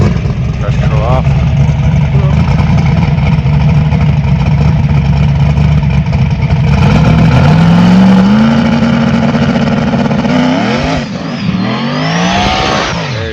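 A turbocharged Saturn car engine revs hard with traction control off, a loud sustained roar that climbs in pitch and then sweeps up and down near the end, with people talking and exclaiming over it.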